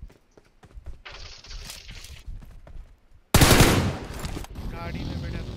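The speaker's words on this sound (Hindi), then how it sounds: "गाड़ी में बैठा तो गोली चला रहा।" BGMI (Battlegrounds Mobile India) gunfire: scattered faint clicks and small noises, then a sudden loud burst of rapid automatic shots that trails off into a lingering rumble.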